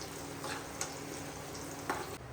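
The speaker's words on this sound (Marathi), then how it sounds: "कमी गॅस करून ठेवला मंदाच्यावर व्यवस्थित तळला जाईल ना लसूण" Garlic frying gently in oil in a kadhai over a low flame for chivda, a soft steady sizzle with a few brief louder crackles and stirring bumps, close and quiet, with no talk.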